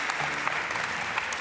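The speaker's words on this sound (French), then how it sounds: "Applaudissez-vous." Dense, steady audience applause fills a short burst at the Les Arcs Film Festival opening ceremony, heard close and evenly loud.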